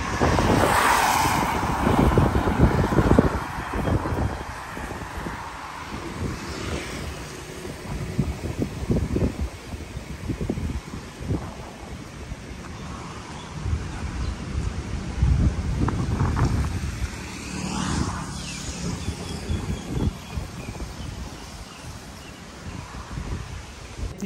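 Wind blowing outdoors at a hotel in Chumphon, Thailand, a continuous broad rush and buffeting against the microphone that swells and eases for the whole stretch, with no talking.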